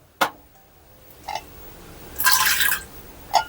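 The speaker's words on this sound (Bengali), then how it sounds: "প্রেসার কুকারে আমি অল্প একটু জল দেবো।" A small splash of water goes into a pressure cooker, with a few isolated drips and clinks and one short pour.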